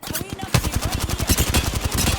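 Rapid automatic gunfire in the Apex Legends battle royale game, dense bursts of loud shots rattling almost continuously with a sharp opening crack, alongside game announcer voice lines.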